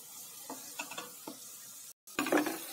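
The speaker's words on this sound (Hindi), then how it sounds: "ये मसाला को अच्छे से भून लेना है।" Spice masala for a fish curry fries in a pan with a soft sizzle and a few stirring scrapes, broken by a brief dropout before a louder burst of sizzling and clatter at the end.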